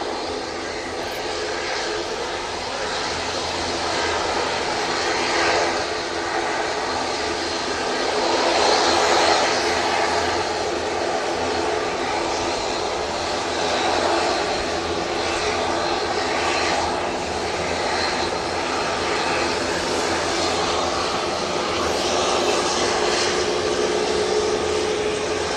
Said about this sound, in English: SAS A320 Neo now going back to Stockholm.